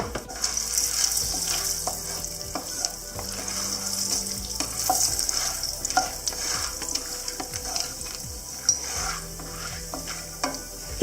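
Corn kernels roasting in oil in a pan for stovetop popcorn, a continuous close frying sizzle with scraping stirring strokes and occasional light clinks, no one speaking.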